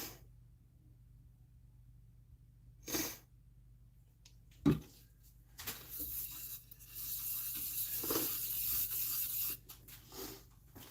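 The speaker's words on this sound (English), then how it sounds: "We're just gonna sand it with the liquid wax." A wood-turned piece is sanded with liquid wax: a soft, steady rubbing swells for several seconds, preceded by a few isolated knocks and thumps in an otherwise quiet workshop.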